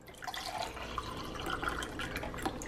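Water pours from a kitchen tap into a glass, a soft continuous splashing and trickling that stays fairly quiet and close throughout, with no voices.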